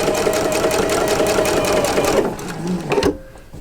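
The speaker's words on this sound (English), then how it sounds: "Now we're going to sew a 1/4 inch on each side of that line" A sewing machine runs close and loud, stitching a quarter-inch seam on a flying geese quilt block with a fast, rhythmic chatter, then slows and stops with a few clicks before quiet.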